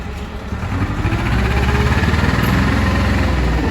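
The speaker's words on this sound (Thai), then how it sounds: "คันนี้จะเป็นโคมาสุรุ่น WA 3 0 1นะคะ เป็นเครื่องยนต์โคมาสุเครื่องสองสูบนะคะ" A Komatsu WA30-1 wheel loader with a two-cylinder Komatsu engine runs close by, a loud steady diesel chug with a rapid pulsing beat that grows fuller after the first second.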